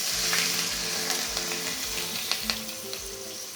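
Mixed vegetables fry in a hot pan with a constant bright sizzle, while a spatula scrapes and stirs in short rhythmic strokes, close up and with no voices.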